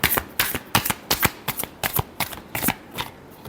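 Tarot cards are shuffled in a quick run of about a dozen crisp riffling snaps, close and fairly soft, with no talk over them.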